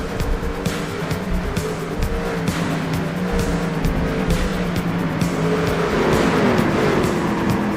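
Race cars in a Snowball Brawl 100 at Five Flags Speedway roar continuously around the track, engines droning and shifting in pitch as the pack passes, loud and steady throughout with no talk.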